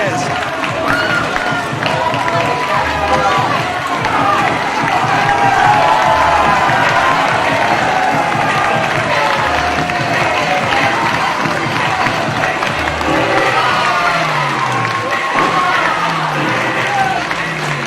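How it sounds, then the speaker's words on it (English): A crowd of about 300 at a wrestling show in Sydney roars and cheers continuously after a tag title match, loud and close, with rhythmic stomping or pounding thuds underneath. "The crowd are on their feet, 300 plus here in Sydney."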